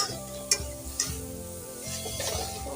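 Spoon scraping and stirring an onion and spice mixture in a kadai, with a few sharp clinks of metal on metal over a low sizzle and background hum.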